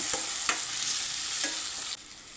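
Tomato and onion sauté in a pan for crab curry, a steady sizzle under occasional soft stirring scrapes, close and even throughout with no talk.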